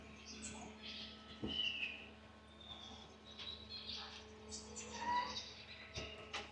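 Birds in a humid indoor butterfly house give scattered faint chirps and whistled calls against a low hum, with a couple of thumps and some quiet movement.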